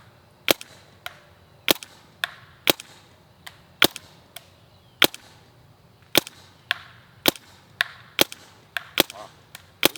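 A Planet Eclipse EMF100 magfed paintball marker fires about twenty sharp, close cracks in an uneven rhythm, sometimes in quick pairs, with quiet gaps between them.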